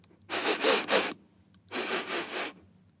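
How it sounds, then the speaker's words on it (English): Two bursts of loud, breathy sniffing, each made of a few quick snuffles, separated by a short pause; close by with no talking. "He sniffs the ground."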